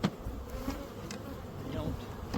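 Honey bees buzz steadily and close by during a hive installation on a ranch, a continuous droning hum with individual bees passing near.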